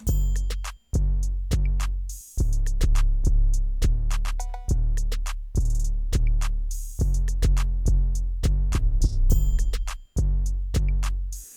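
A bouncy R&B beat with punchy drum hits and deep, booming 808 bass, playing loud and steady in a springy, repeating groove.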